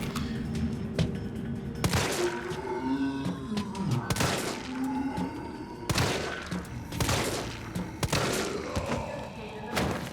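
Gunfire from the video game Resident Evil 3 lands as headshots, sharp heavy shots and thuds spaced irregularly over a rumbling game soundscape with creature growls, fairly loud and close.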